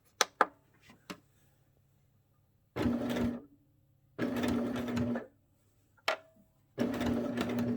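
A sewing machine stitches a mitered corner in three separate whirring runs, each lasting about a second, close and clear. Short clicks and fabric handling sounds fall in the quiet between runs.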